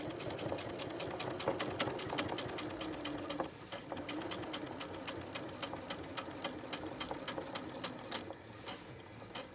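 A sewing machine stitches along a seam of a boned bustier in rapid, even bursts of needle clatter, close by, with a brief change in rhythm partway through.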